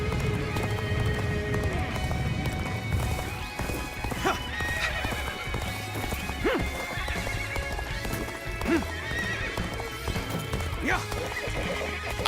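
Horse hooves pound in a fast gallop in Dynasty Warriors: Origins amid a busy, loud background with scattered whinnies and clatter.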